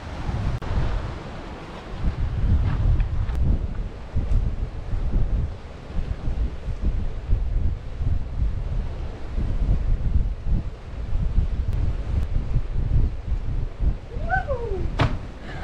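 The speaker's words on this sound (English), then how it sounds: "Look at those waves." Mediterranean Sea waves wash and roll near an isolated, abandoned lighthouse, with strong wind buffeting the microphone in steady gusts; no talking, and a brief bird-like chirp rises near the end.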